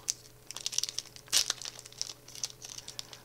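A Kaldheim trading card pack being torn open, with close crinkling foil and one louder ripping tear partway through, and no voices.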